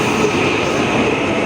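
A loud, continuous rumble and hiss of a KRL commuter train at a station in Indonesia, with no talking over it.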